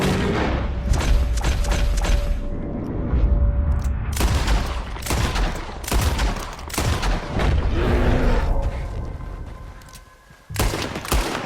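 Loud, close gunshots fired at a bear in Red Dead Redemption 2 crack out in fast volleys with booming thuds, nearly continuous before a short lull and one more burst.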